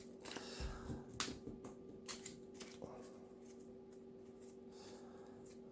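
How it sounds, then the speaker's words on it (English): Thunder Dragon trading card deck being shuffled by hand, a few soft riffling and snapping bursts, close and quiet with no talking. "I'll shuffle it up a little bit more."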